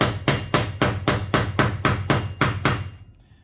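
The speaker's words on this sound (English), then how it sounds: "give the nut a few taps to tighten it up the rest of the way" Nine sharp, evenly spaced hammer blows strike a screwdriver to tighten a nut. Each tap is loud and close with a quick decay, then the taps stop and the last moments are quiet.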